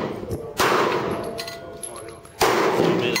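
An FN Five-seveN pistol firing 5.7x28 ammunition at targets fires two sharp, loud shots about two seconds apart, each with a brief ringing decay, under a low outdoor background.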